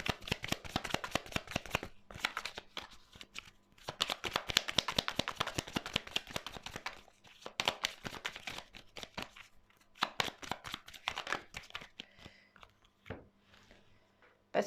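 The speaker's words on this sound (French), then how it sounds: "Voici, je vais prendre une dernière carte." Tarot cards are shuffled and drawn in rapid, crisp riffling bursts with brief pauses between, close and moderately quiet, with no talking over them.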